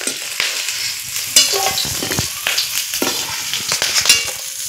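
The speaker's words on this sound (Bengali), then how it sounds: "এখন আমি মাছগুলো কড়া থেকে উঠিয়ে নিচ্ছি।" Fried shrimp lifted out of an oily wok, loud close sizzling with sharp spatula scrapes and clanks against the metal, irregular bursts over a constant crackle, no voices.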